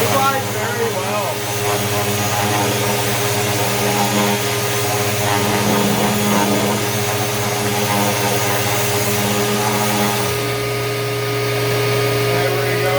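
A Triton geared eccentric orbital sander runs continuously up close, a loud, even motor whine with a steady hum that eases slightly near the end.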